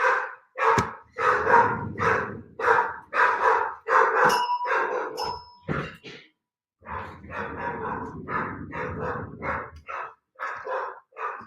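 A dog barks at something in the yard, a long run of loud, close barks in quick succession with a brief pause partway through, then more barking.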